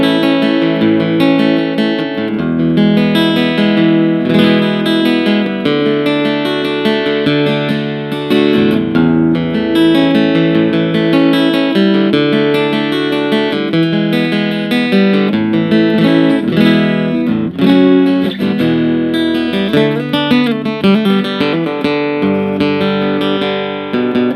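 An Adatis ED12 acoustic-electric guitar played through an amplifier plays a melodic passage with strummed chords and picked notes, full and resonant, with no voices.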